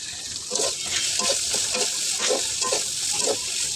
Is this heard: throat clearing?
no